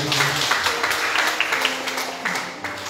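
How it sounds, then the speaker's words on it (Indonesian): A church congregation claps in applause during a worship service, a dense patter of many hands that runs steadily and fades slightly at the end, with faint voices mixed in. "Boleh tepuk tangan untuk Bapak Ibu."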